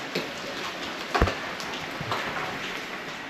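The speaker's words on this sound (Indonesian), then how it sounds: "Kan hujan nih." Rain falls as a steady hiss near Gunung Ciremai in the mountains, with a few louder drops or taps standing out against the soft, even patter.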